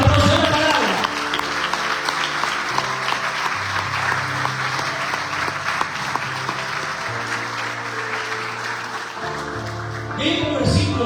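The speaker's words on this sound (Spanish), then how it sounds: "Es un fuerte aplauso a la palabra." A church congregation claps loudly and continuously, a dense sustained applause that holds steady for several seconds, with music playing underneath throughout.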